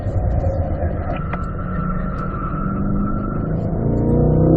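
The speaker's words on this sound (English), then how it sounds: "now I'm rolling the full throttle for just a moment" A car on a race track accelerates at full throttle, the engine roar building steadily louder and close, with no talk over it.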